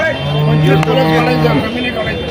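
A cow at a weekly cattle market in Nashik gives a loud, sustained low moo of about a second and a half, close by, with market bustle continuing around it.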